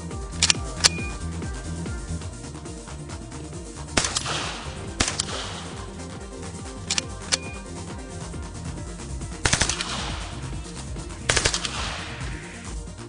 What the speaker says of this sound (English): the Bison is highly controllable and effective automatic weapon